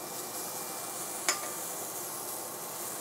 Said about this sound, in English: how can you go wrong cooking up garlic, onions, and mushrooms?